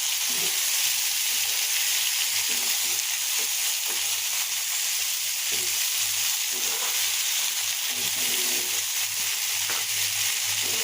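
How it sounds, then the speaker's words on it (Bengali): Onion and garlic sizzle continuously in hot oil while being stirred, a loud, even frying hiss with faint occasional utensil movements underneath. "ভালোভাবে পেঁয়াজ রসুনগুলো মিশিয়ে দেবো"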